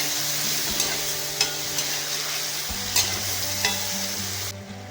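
Tomatoes frying for a boriola fish curry give a steady close sizzle in the pan, with several light scraping stirs and clinks before the sizzle drops away at the end.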